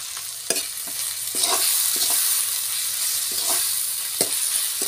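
Ginger garlic paste fries in hot oil in a village kitchen, a continuous close hiss broken by several sharp clicks and scrapes from stirring, with no talking.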